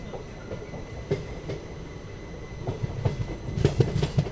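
A train departing Himmatnagar railway station in India: rumbling wheels with rhythmic clacks over rail joints, getting louder and busier toward the end as the carriage picks up motion.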